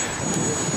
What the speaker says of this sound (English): you just get a bit of a surprise as a great big Victor goes over the top of him